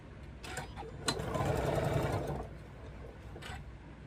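A sewing machine stitches a short seam on a small quilted tree ornament, a brief, close whirring run of about a second and a half framed by light clicks of handling.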